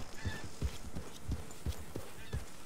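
Horse hooves clip-clop steadily on hard ground, a regular rhythm of sharp thuds at moderate distance, alone without talk.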